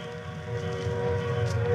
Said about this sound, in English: A train. There's a train coming. It's coming toward me.